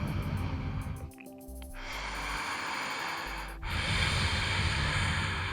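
Deep breathing during a power yoga flow, slow audible inhales and exhales close to the listener, with a pause in the middle before a fuller breath resumes; no speech.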